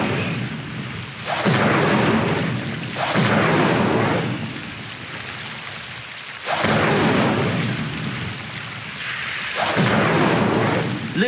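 Incendio fire spells cast in Hogwarts Legacy: four loud, broad whooshing bursts of flame, each lasting a second or two, separated by quieter rumbling gaps.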